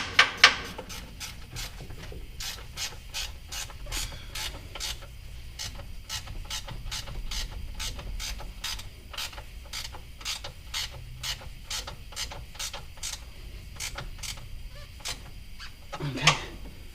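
Steady run of quick ratcheting clicks from a ratchet wrench working bolts on the frame of an Isuzu chipper truck during a radiator replacement, fairly even in pace and close by, with a couple of louder knocks at the start and end.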